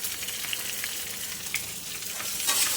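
Food sizzles steadily in a hot pan after salt goes in, with small scraping stirs and clicks scattered through a continuous bright frying hiss, close and moderately loud.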